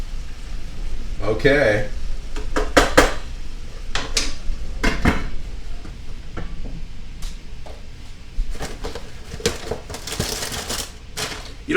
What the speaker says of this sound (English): All right, let's give it another stir.